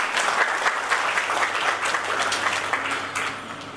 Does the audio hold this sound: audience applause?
yes